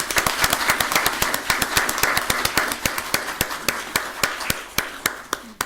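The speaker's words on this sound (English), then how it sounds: "Let's give them a round of applause." Sharp, evenly spaced claps ring out in a steady rhythm at a board presentation, sounding like one or a few people clapping rather than a large crowd.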